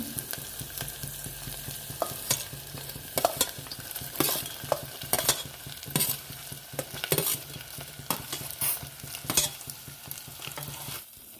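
Mutton pieces hit browned onions in a hot pan for an Assamese-style goat curry, setting off a steady, close sizzle broken by repeated scraping strokes and clinks of a spoon stirring, with no talking.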